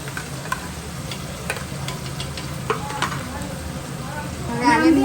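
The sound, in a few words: chilli and garlic paste sizzling while being stirred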